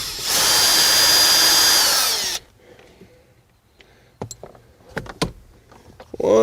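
A power drill runs steadily and loudly for about two seconds, removing bolts on a 2016 Jeep Wrangler during a front speaker install, then stops; scattered clicks and clanks of handled parts follow.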